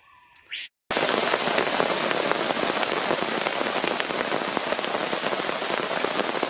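Steady rain at night in caiman country, a dense hiss of drops pattering close on surfaces. It starts after a brief cut and continues unbroken with no voices.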